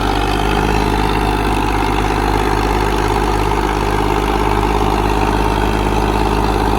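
Tractor engines run together while pulling a heavy trailer out, giving a loud, steady, close-up drone with a low rumble and slight revving, and no talking.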